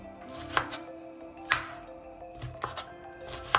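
An onion is finely chopped with a knife, four sharp blade knocks spaced about a second apart over a low kitchen hum, close by and with no one talking.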